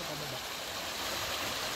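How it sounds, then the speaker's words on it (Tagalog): Steady broadband rush of a stream flowing near Matico Falls in Sual, Pangasinan, a continuous close wash of water with no voices over it. "Ayan na yung tubig paakyat dun."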